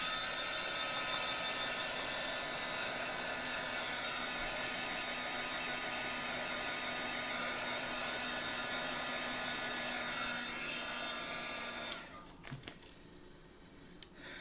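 A hair dryer blows steadily at a craft project, a constant close whirring hiss that runs unbroken for about twelve seconds, then cuts off, leaving a few faint clicks and handling sounds.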